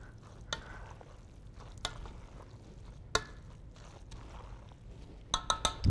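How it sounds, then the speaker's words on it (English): A spoon stirring vegan millet primavera in a pot, giving soft wet scraping with a few sharp clinks of metal against the pot, faint and intermittent. "Just want to stir that in good."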